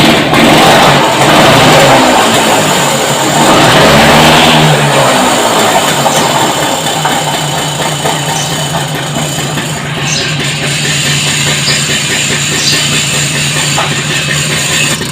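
A TVS Super XL moped engine runs just after carburettor cleaning and tuning, a loud steady idle up close with a brief rev near the start before settling to an even hum.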